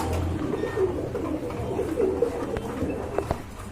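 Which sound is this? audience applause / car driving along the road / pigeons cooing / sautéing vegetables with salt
pigeons cooing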